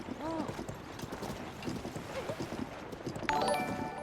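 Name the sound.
horse hooves clip-clopping in video game Tears of the Kingdom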